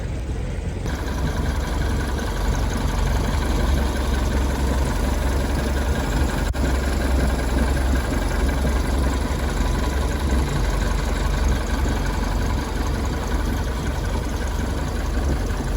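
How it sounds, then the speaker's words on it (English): Inboard engine of a 1996 Sea Ray boat idling steadily after a new carburetor was fitted, a continuous low rumbling drone that stays even and close throughout with no talking. "The boat ran, but now with the new carburetor on it, I think I've kind of got it hopefully tuned in."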